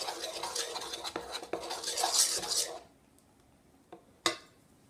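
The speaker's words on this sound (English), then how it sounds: "just mix all of that together till it's properly mixed" A spoon stirring and mixing glue-based slime ingredients in a bowl, busy scraping and clinking for a few seconds, then quiet with a couple of isolated taps and one sharp clink near the end.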